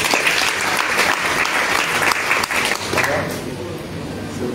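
A church congregation applauds steadily and loudly throughout, a dense wash of clapping mixed with crowd voices that never stops.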